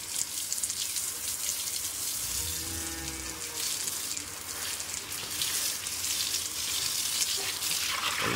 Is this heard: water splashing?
yes